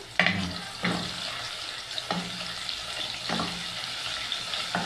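Five cloves of garlic frying in tomato sauce for Egyptian koshari, a steady close sizzle broken by a few scraping stirs of the pan at regular intervals.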